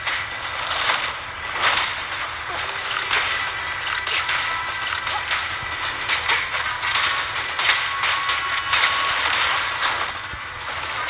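A train runs steadily in the Zenless Zone Zero video game, its continuous rumble broken by rhythmic metallic clacks and rattles throughout, loud and with no speech.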